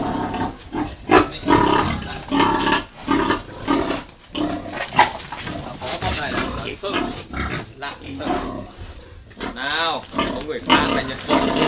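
A male wild boar squeals and grunts loudly and repeatedly while being caught by hand in a pen, with overlapping chatter and scuffling throughout.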